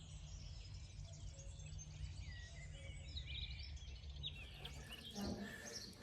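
Faint birdsong chirping in the distance over a low outdoor hum, with a brief rustle near the end.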